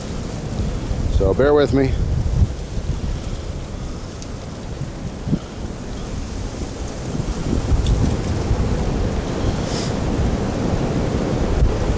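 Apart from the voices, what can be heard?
very strong wind blowing outdoors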